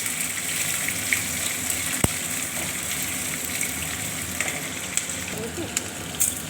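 Onions, curry leaves, ginger and green chillies frying in a pan for upma, a steady soft sizzle with scattered pops and a sharp clink, while a person talks over it.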